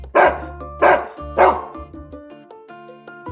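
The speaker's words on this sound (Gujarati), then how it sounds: "કૂતરો ભસે" A dog barks three times in quick, loud, close succession, followed by a few softer trailing yips and whimpers.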